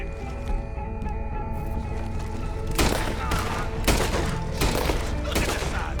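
Gunfire in Red Dead Redemption 2 during a story-campaign fight: a dense, loud volley of shots breaks out midway and continues in rapid overlapping cracks over steady background game sound.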